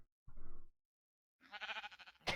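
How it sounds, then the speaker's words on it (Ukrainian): Two quiet sheep bleats from Minecraft: a short low one, then after a pause a longer, wavering bleat that rises brighter at the end. "І в нас є маленька вівця."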